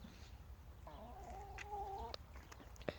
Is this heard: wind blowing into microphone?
no